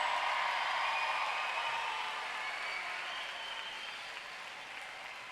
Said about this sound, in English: So you give yourselves a hand. Let me hear it from the parents.